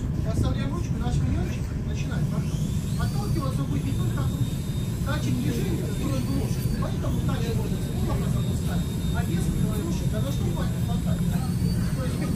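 Riding inside a Moscow local train brings a continuous low rumble and rattle of the moving carriage that fills the whole stretch, with voices talking over it.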